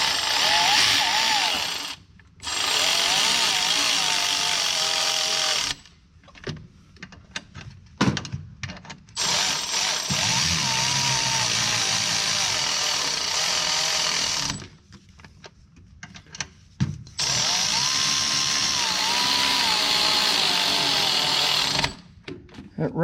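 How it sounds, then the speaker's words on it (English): A power ratchet on a Kubota MX6000 tractor whirs in long bursts as bolts are run up, with short pauses and clicks between runs and a few quiet spoken words in the gaps. "That ratchet is very, very controllable."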